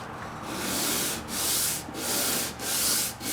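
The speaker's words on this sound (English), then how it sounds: "all I'm doing is a very, very light sanding with 220." 220-grit sandpaper on a block rubs lightly across a mid-century wooden bedroom set in five smooth back-and-forth strokes, a steady rhythmic scratchy swish with brief pauses between passes.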